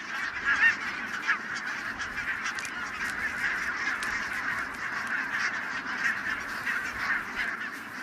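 A large flock of Greenland geese on rich Scottish island farmland in autumn, honking continuously in a dense overlapping chorus, with a few louder calls standing out nearby.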